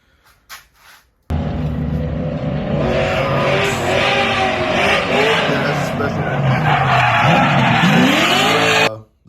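A VH8 drift car's engine with a large cam revs hard and continuously with a lumpy, aggressive note, tires squealing as it slides, loud and close for several seconds.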